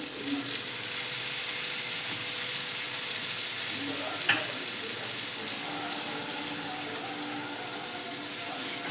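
Tamarind juice poured into an ivy gourd stir-fry sets off a steady, close sizzle and hiss that runs without a break, with a brief clink near the middle and no talking.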